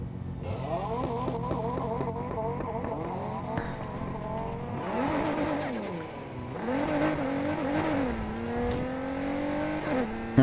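A Nissan Sylvia engine in NFS Heat revs up through several rising gear pulls with brief dips between shifts, then holds a steady high drone, moderately loud with no talk over it.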